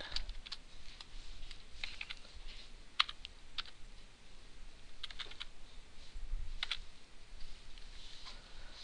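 A computer keyboard clatters as a website address is typed out, with a steady run of quick close key clicks and short pauses and no talking.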